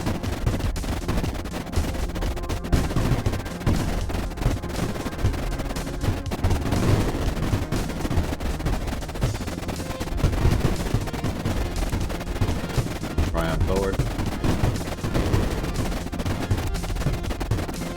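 Deep penetration missiles launched from a frigate in the Creeper World video game, a dense, continuous barrage of overlapping launches and bursts at moderate loudness, with no voices.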